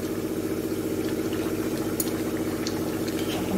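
Chicken and potato stew simmers in a large wok, giving a steady low bubbling and a dense burble with a few soft pops. The sound holds at an even, moderate level with no talking.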